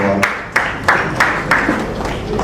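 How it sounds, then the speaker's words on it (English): Applause from an audience at an honoring ceremony in Lagos, heard as a broad steady wash of hand claps with a few sharper claps standing out, fairly close and loud throughout. "Please round of applause for one."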